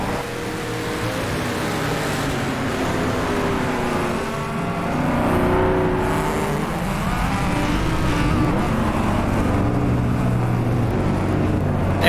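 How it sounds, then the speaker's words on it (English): Race cars at the start of a historic racing round at Spa-Francorchamps, engines droning and revving continuously at a moderate distance, with a steady layered roar and no clear single pass-by. "somebody's decided to do their victory donuts right at the start of the race"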